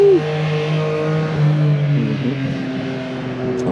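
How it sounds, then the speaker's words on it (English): Engine revving at an outdoor cars-and-coffee show, a steady loud exhaust drone with pitch climbing and dropping through rev-matched blips, close and continuous with no talk. "Some rev matches."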